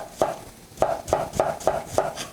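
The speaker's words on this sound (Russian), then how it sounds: "И продолжаю нарезать оставшийся лук." A knife chops through onion on a board, six sharp crunchy strikes in an uneven rhythm, close and clear with no talking.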